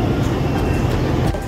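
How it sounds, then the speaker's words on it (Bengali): A train engine idles at Khulna railway station in the morning, giving a steady low rumble and hum that stays loud and constant throughout, with no talking. "একটি ট্রেনের ইঞ্জিন এসে দাঁড়িয়েছে,"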